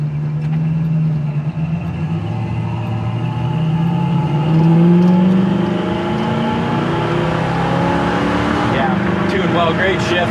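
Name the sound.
1965 Ford Mustang with 289 two-barrel engine accelerating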